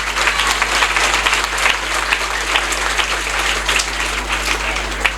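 A crowd at an end-of-year party at Senlux private school in Niague's HLM 3 quarter applauds the CM2 class. Dense, steady, loud clapping fills the whole stretch over a low constant hum.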